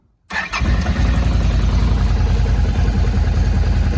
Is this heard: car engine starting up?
yes